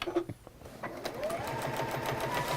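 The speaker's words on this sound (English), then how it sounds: "So I just laid mine out and sewed them into pairs, and then sewed pairs together." Sewing machine stitching quilt blocks together in a home workshop, a steady continuous whir of rapid stitching running through most of the clip after a brief quieter start, close and moderately loud.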